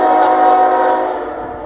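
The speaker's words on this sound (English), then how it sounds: "There's a train on there too. A train meet." A CSX freight train sounds its horn at Cold Water Road, a loud, sustained chord very close by that holds steady, then tapers slightly toward the end.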